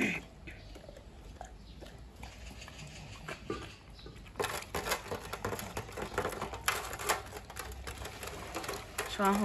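A pregnant Staffordshire terrier gulps down a bowl of food, with quick close-up crunching, lapping and bowl clatter that grows denser and louder partway through.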